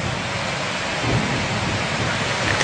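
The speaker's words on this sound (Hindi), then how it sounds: "शदीद बारिश है" Heavy rain pours in a dense, constant hiss while low thunder rumbles steadily underneath, loud and close throughout with no voices.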